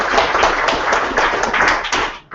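A meetup audience applauds the year's speakers with dense, steady clapping that fades out abruptly near the end.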